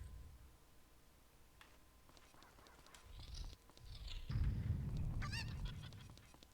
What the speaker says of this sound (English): Have I acknowledged before that Navi has the sound effect of a chicken?